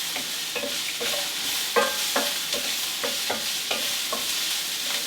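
Four cloves of chopped garlic sizzle in a pan with chilis for a vegan tempeh chili, a soft, even frying hiss marked by repeated light stirring scrapes at a regular pace, no speech.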